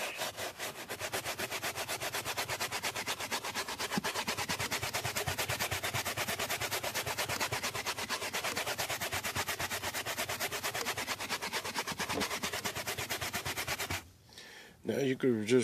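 Carpet stains scrubbed with Westcoast Customs carpet and upholstery cleaner, a fast continuous rhythmic brushing rub close up that stops abruptly near the end, followed by a few brief bumps.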